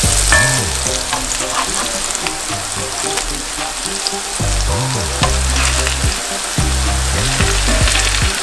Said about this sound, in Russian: И на небольшом огне начинаем жарить.